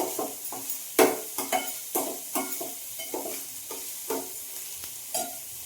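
A pan of food frying over high flame crackles with a continuous sizzle while a spatula scrapes and knocks against the pan in a quick, repeated stirring rhythm, close and fairly loud.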